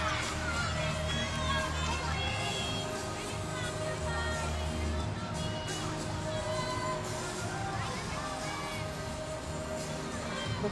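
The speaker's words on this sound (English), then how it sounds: "Crowd loved it. We got some oohs and ahs." A gymnastics meet crowd at a Kentucky versus Georgia event fills the space with a dense, continuous roar of cheering and chatter, with scattered shouts rising from the steady wash of noise.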